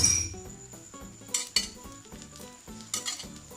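Activated charcoal dosa cooking in oil on a pan, with soft sizzling under repeated metallic clinks and scrapes of a spatula against the pan, plus a few sharper clanks.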